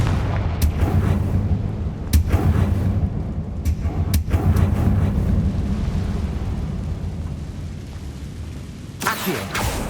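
Fire-curse spell blasts in the video game Hogwarts Legacy, several sharp booming bursts over a dense low rumble of game ambience, the loudest near the end, with no talking.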